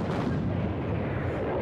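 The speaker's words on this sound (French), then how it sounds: "les GI subissent soudainement un bombardement massif. 2000 canons allemands pulvérisent leur position" A museum sound effect of a massive German artillery bombardment from December 1944 in the Ardennes near Bastogne, a continuous dense rumble of distant cannon fire rolling without a break, with no voices.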